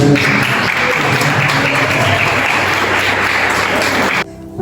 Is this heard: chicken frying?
no